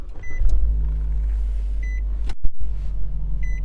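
A 2015 Nissan Juke SV engine idles steadily up close after starting, with a low constant hum, brief electronic chimes recurring, and a short dropout midway.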